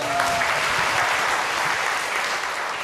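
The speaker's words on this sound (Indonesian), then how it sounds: "Tepuk tangan dulu" An audience at a public university discussion in Padang breaks into continuous applause, a dense and even wash of clapping that holds steady at moderate loudness for the full stretch with no voices over it.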